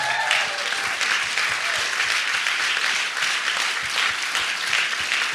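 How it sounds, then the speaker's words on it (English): An audience at a live anniversary event bursts into sustained applause for a lawyer, loud close clapping from a large crowd that holds steady throughout. "If you'd applaud Mark Zaid for his courage"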